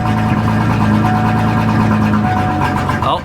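A 1988 Ford Ranger engine idles rough and near stalling, a low uneven drone with a wavering note that sags partway through, close and loud with no talk over it.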